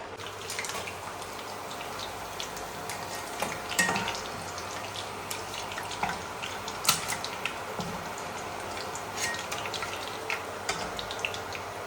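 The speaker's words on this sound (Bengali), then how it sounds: "এরকমভাবেই সবগুলো ভেজে নেবো, এরকম করে লাল লাল করে" Mourala fish fry in hot oil until reddish, giving a faint, continuous crackle with scattered sharp pops and spits, close by, with no talking.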